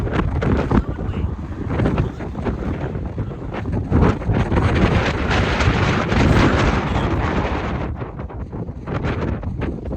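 Strong mountain wind sweeps across a lava field on Hawaii's Big Island, roaring and buffeting the microphone in a loud, continuous rush that swells and eases, with no talking.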